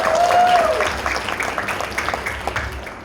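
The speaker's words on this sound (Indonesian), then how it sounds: "Tepuk tangan buat Mas Agung." Audience applause for film producer Agung Saputra at a Lampung event, a broad wash of clapping that starts loud and thins out over about three seconds, with a whistle or cheer near the start.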